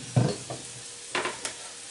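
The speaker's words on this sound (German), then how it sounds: "Und die rühre ich jetzt da mit meinem Schöpflöffel ein bisschen unter." A ladle stirs milk into pancake batter, making a few short, close scraping and sloshing strokes separated by brief pauses.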